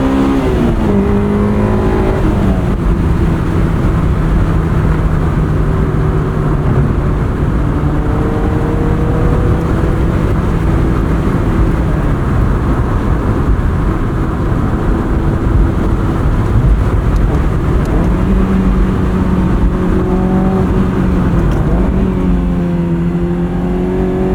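Honda S2000 engine revving hard while driving, heard from inside the car as a loud, sustained high-pitched wail that climbs and falls through the gears, close and continuous with no talking.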